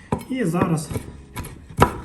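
A knife dices vegetables into cubes on a cutting board while a borscht is prepared, several sharp, close chopping knocks spaced unevenly, with a person speaking briefly between the cuts.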